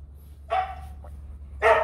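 A yellow bobtail dog barks twice nearby, two loud, short woofs with a faint yip between them, over a low steady hum.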